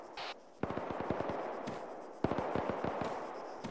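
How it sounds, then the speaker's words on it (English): Rapid bursts of automatic gunfire in the video game Arma 3, two main volleys of sharp repeated shots with a brief pause between, loud and close. "I see gunfire to the southwest side of the city."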